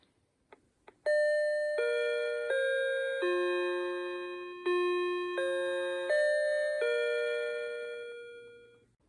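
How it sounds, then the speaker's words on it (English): A Dakota Alert driveway alarm receiver plays a clear chime melody of about a dozen bell-like notes in steady sequence after two faint clicks, each tone ringing and decaying, with no talk. "when your receiver goes off, it's going to make a sound, depending on what chime you want to pick"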